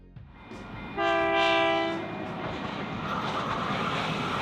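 A horn sounds on a model railway layout representing trains of various eras at a rail hub in New South Wales, Australia. It is a clear, steady chord lasting about a second over faint running noise.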